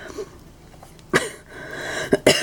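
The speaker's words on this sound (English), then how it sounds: "sorry about the coughing" A few short coughs, one single and then a quick pair near the end, close to the mic over quiet room tone.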